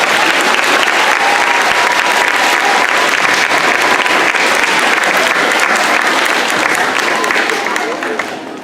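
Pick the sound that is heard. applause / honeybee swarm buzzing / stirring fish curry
applause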